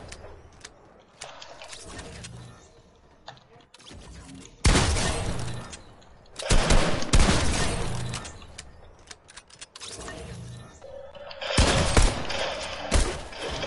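Gunfire in a shooting video game comes in loud bursts of rapid shots and clattering mechanical clicks, spread across the clip between quieter gaps, with no talking over it.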